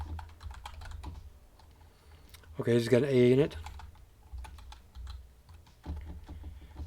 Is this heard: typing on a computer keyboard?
yes